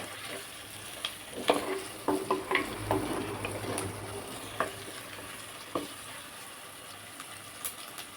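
Food for drumstick curry sizzles and crackles in hot oil in a pan while being stirred, with scattered spoon scrapes and clinks over a soft, steady frying hiss.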